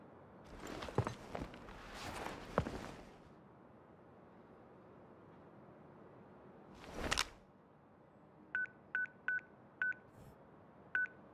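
In Crisis Core Final Fantasy VII Reunion, a phone keypad is dialed to abort a mission, giving a quick series of six sharp electronic tones. Footsteps and a few heavy thuds come before the tones.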